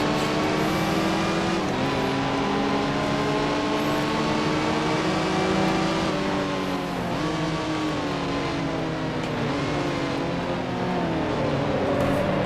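A 1955 race car engine in the Grand Prix Legends racing game drones loudly and steadily, pitch sweeping down at several gear shifts and braking moments, close and continuous with no talk.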